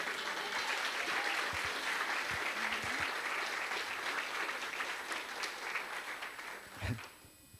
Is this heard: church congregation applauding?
yes